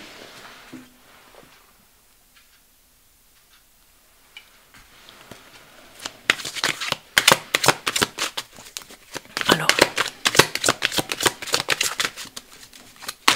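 A deck of oracle cards is shuffled close by, with quiet handling first and then a rapid run of crisp card riffles and flicks.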